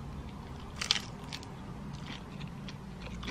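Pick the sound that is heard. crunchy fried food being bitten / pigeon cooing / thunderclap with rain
crunchy fried food being bitten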